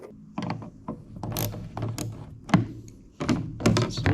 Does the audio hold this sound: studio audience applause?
no